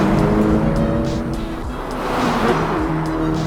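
A 2024 Acura Integra Type S accelerating hard in a drag race, a loud close engine roar with rising gear pulls and a brief dip mid-run, with no talk.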